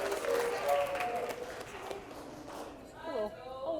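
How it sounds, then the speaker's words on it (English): Applause and cheering from a town hall crowd at a fan investor board member election, loud at first and then thinning out, with voices calling out and talking over the clapping. "give them a round of applause"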